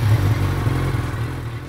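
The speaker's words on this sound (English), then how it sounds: "So you can hear the exhaust." A motorcycle exhaust rumbles steadily at idle close by, a low, even engine note with slight clatter that eases a little toward the end.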